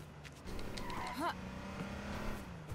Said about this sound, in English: And I'm hearing a car.